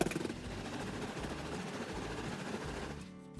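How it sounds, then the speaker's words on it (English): A failing truck water pump that had a coolant leak produces a rapid, buzzing mechanical whir with a pulsing wah-wah wobble, heard close and steady for a few seconds before fading. "Gotta love that wah-wah, wet-ass water pump."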